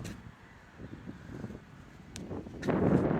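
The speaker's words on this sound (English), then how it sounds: "as you can probably hear the wind" Faint wind rumbles against the microphone, swelling into a stronger low gust near the end, with no talking.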